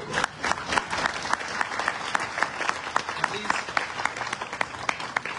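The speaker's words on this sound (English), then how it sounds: "So please uh, give yourselves a round of applause." An audience at a military commissioning ceremony in Buffalo, NY applauds steadily throughout, a dense wash of many hands clapping at once, with a few sharper individual claps standing out and faint voices mixed into the crowd.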